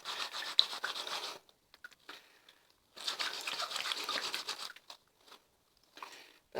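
A dirty hat is scrubbed clean by hand with a brush, giving bursts of rough bristly rubbing and wet scratching separated by short quiet pauses.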